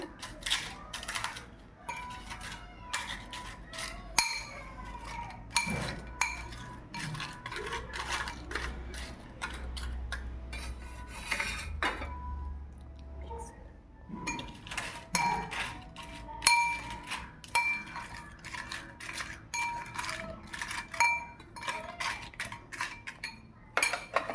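A spoon clinks and scrapes against a bowl as salt is stirred into a Lays chips salad with onion and tomato, giving a steady run of close, sharp taps for the whole stretch.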